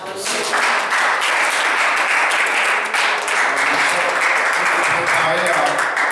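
A church congregation at a seminary gathering breaks into sustained loud applause, dense clapping filling the room throughout with voices mixed in.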